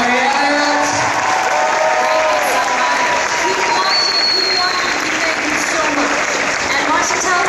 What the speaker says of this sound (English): join me in giving a massive round of applause to the fantastic Meghan Ory and Beverley Elliott